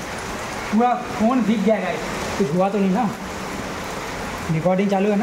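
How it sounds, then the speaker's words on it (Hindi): Heavy rain pours down in a steady, close hiss while someone speaks over it in short bursts. "भाई बहुत ही भयंकर बारिश हो रहा है"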